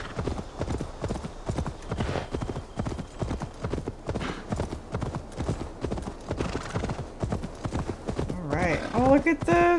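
Horse galloping in Assassin's Creed Valhalla, a steady, loud clip-clop of hooves that runs throughout, ending in a neigh or whinny over the hoofbeats.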